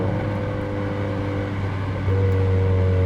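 A steady, deep engine drone heard from inside a Honda Civic FK7 with an HKS aftermarket muffler, around 3500 rpm climbing uphill, with a low exhaust rumble that steps up slightly in pitch and loudness partway through.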